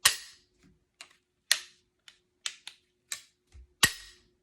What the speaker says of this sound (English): that's how you cock it right here